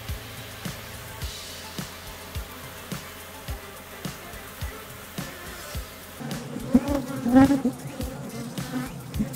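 Japanese honeybees in a defensive bee ball against a yellow hornet, buzzing as a steady close-up drone with a louder, busier burst near the end, alone without talk.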